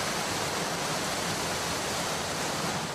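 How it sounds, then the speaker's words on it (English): Cyclone Evan batters the Pacific with heavy pouring rain and strong wind stripping trees, a dense, unbroken roar that stays loud and constant throughout. "The rain is pouring in and the trees are being stripped."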